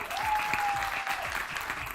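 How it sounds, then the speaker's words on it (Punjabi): Studio audience applause on the Jeeto Punjab Eid special TV show: dense, steady clapping that holds for about two seconds, fairly close and loud, with a faint thin tone running underneath. "ਮੇਰੀ ਭੈਣ ਵਾਸਤੇ ਤਾਲੀਆਂ"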